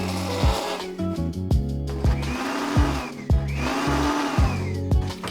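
A blender processing no-bake, dairy-free cheesecake filling with a pinch of salt, running as a steady loud motor with a rhythmic pulsing churn throughout.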